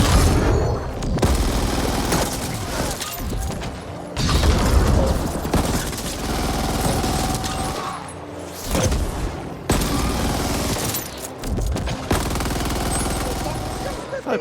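Rapid gunfire rattles almost nonstop in the game Ascent: Cyber Heist, loud and close. Sustained bursts are broken by short pauses, with occasional heavier booms mixed in.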